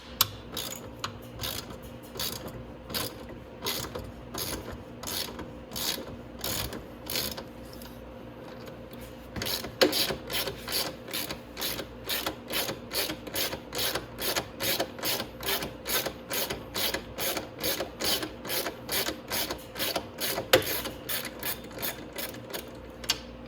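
A hand ratchet works a nut loose on a Venom X22GT 250cc motorcycle's motor mount, a rapid run of sharp, close clicks repeating in steady rhythmic bursts with short pauses between strokes.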